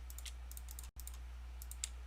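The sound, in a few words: computer mouse clicking while playing Minecraft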